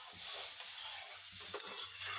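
Water hits a hot pan of spiced egg curry, a steady hissing sizzle with soft stirring scrapes and a small clink of a utensil.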